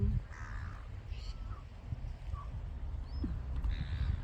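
Birds at Altona Beach in Melbourne on a rainy day, with crows cawing in a few separate calls over a low, rumbling outdoor background, fairly faint and distant.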